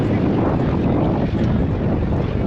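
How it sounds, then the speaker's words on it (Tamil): A boat ride off Kanyakumari gives a steady, loud roar of wind and engine rumble with the rush of water, continuous and close. "இப்போ அந்த போட்டில் தான் போக போகிறோம்."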